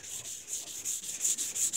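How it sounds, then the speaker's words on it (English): Wet sanding by hand on a car hood, a steady wet rubbing with a quick back-and-forth rhythm of strokes, close and moderately loud, with no talking. "Okay, the wet sanding,"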